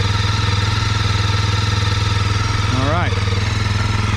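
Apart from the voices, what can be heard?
Kawasaki KLX230R motorcycle engine idling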